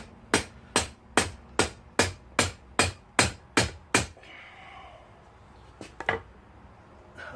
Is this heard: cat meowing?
no